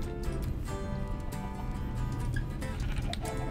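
Sheep bleat in the Minecraft video game, short calls rising over a dense, steady bed of game music and ambient noise, with no one speaking.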